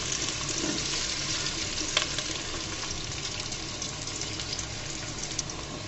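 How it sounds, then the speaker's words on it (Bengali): Onions frying in oil for a beef liver curry, a steady dense sizzle with faint stirring clicks running throughout at close range. "পেঁয়াজটাকে লাল লাল করে ভেজে নিব।"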